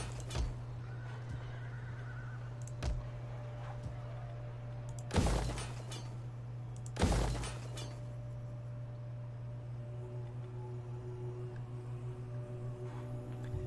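Horses whinny at a horse breeder building in the strategy game Total War: Attila, during a Sassanid Empire campaign; two loud, sharp neighs stand out mid-clip over a steady low game hum and faint background tones.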